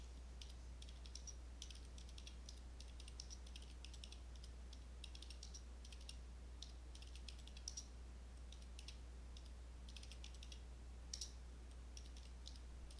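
Numbers are tapped into a calculator in quick bursts of light, faint key clicks over a steady low hum, with pauses between runs and no talking.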